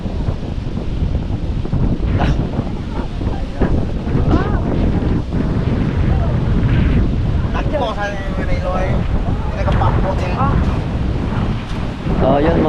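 Strong typhoon wind roars continuously and loudly into the microphone near the sea, buffeting steadily with rushing gusts, and faint voices are heard beneath it.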